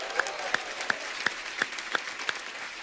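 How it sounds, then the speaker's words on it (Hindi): Studio audience applause for a doctor honored with the Padma Shri on The Kapil Sharma Show, heard as sharp, evenly spaced claps in a steady rhythm over a low crowd background. "और एक बार तालियां और बनती है"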